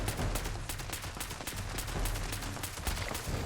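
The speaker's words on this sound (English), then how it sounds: "Shoot this guy in the face." Rapid, continuous gunfire from a video game firefight in Fallout 76 as an enemy is shot, the dense bursts running throughout at a steady level.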